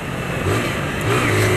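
A 2009 Honda Titan 150 motorcycle engine runs and revs steadily, its pitch rising around the middle and again near the end, loud and close with no talk over it.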